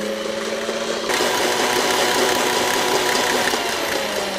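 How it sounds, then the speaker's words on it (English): An electric mixer whirs steadily at high speed as it beats egg yolks until they turn thick and pale, a loud continuous motor drone that grows slightly louder about a second in and keeps running without any talk. "Start on a little low speed to get the mixing going, and then increase the speed to high."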